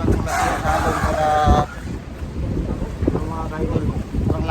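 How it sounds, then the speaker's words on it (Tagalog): Very strong monsoon wind roars and buffets the microphone outdoors, a heavy low rumble that is loudest in the first second and a half, then gusts more unevenly while someone talks underneath. "Sobrang lakas ng hangin dito sa part"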